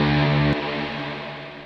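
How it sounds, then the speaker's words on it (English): A sustained synth-like tone with bright, shimmering upper harmonics cuts off abruptly, leaving a washy, pitched reverb tail that slowly fades. "a heavily modulated, pitched reverb thingy"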